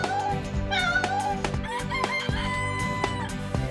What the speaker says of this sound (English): and the cock cock-a-doodled.